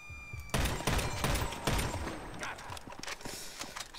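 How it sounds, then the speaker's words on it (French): Sniper rifle fire in GTA: a few loud, close blasts with sustained rumbling and crackle that fill the whole short stretch, with no speech. "Tiré beaucoup là, j'ai beaucoup tiré"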